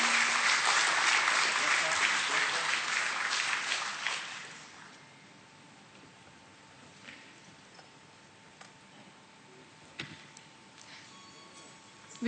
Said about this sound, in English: Can we have a big round of applause for all our dignitaries?